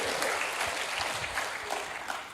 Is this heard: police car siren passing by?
no